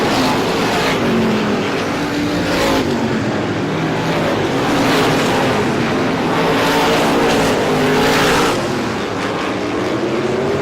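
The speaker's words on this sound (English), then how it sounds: "The heavy traffic coming down the front straightaway" Race cars in heavy traffic roar down the front straightaway of an oval speedway during a 150-lap feature, loud engine passes rising and falling in waves one after another.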